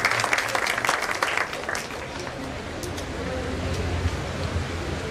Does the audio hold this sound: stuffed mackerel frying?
no